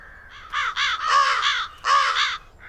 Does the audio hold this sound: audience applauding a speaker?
no